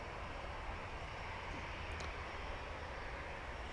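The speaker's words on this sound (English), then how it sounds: "Another TUI taxiing out back there as well." A TUI airliner taxiing out at Manchester Airport produces a steady, distant broadband jet-engine rumble, continuous and fairly faint throughout, with no talking.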